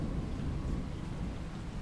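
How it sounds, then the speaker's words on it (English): Steady rain patters against pavement with a low rolling rumble of distant thunder underneath, a continuous dense storm wash at moderate level. "the steady patter of the rain against the pavement and the occasional rumble of thunder in the distance"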